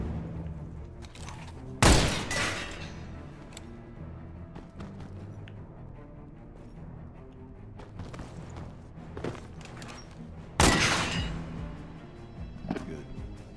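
Gunfire in Beyond: Two Souls gameplay: two loud, sharp bursts of shots stand out from quieter thumps and mechanical clatter, with faint scattered reports between them.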